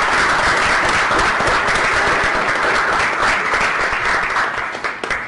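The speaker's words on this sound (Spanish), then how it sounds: "un aplauso para ustedes que están aquí" A studio audience of students applauds at a university TV programme, a loud, dense, continuous clapping that holds steady and then tapers slightly at the end.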